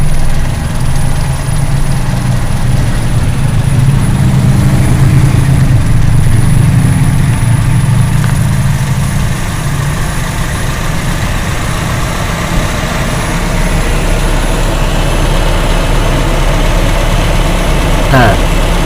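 A car engine with a Delco distributor idles at a raised idle speed, a constant loud, deep rumble that runs unbroken throughout while a voice talks over it.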